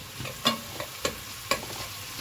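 Chopped onions with a pinch of salt sizzle gently in a pan while a spoon stirs them, giving several distinct scraping knocks over a low continuous frying hiss, close by with no talking.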